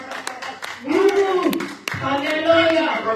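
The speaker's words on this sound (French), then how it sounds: "Those out there, I want them to clap big" An audience at a religious gathering claps for the glory of Jesus, a sustained burst of applause under a voice speaking loudly over it throughout.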